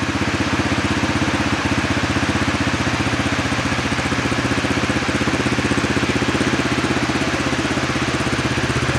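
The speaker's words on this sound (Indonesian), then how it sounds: "Ini suara motornya." A trail motorcycle with only about 1,000 km on it idles steadily and loudly up close, its engine putting out a continuous even chugging throughout with no talk over it.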